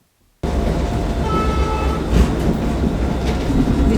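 The Arctic Circle sleeper train rolls along the rails in winter after a stop, a steady loud rumble with faint rhythmic clatter starting abruptly from silence and continuing evenly, heard from inside the carriage.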